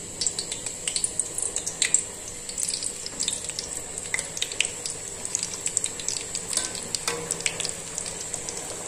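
Dough pieces frying in hot ghee, a continuous crackling sizzle full of small pops and bubbling, steady and close, with no one speaking.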